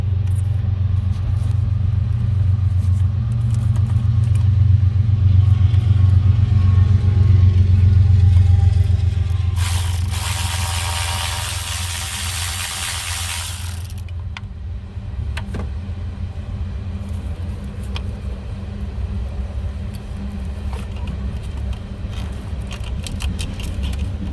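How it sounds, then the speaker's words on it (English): Ignition coil being unfastened and pulled from the engine of an Infiniti FX35, a steady low engine-bay rumble throughout with a burst of bright metallic jangling and rattling in the middle, no talking. "So I'm going to go ahead now and undo that one coil and pull it out."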